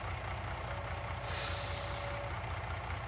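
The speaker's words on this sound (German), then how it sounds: "Also der LKW hier." Truck air brake in Farming Simulator 19, a sharp hiss bursting out over a steady low idling engine, close and fairly loud.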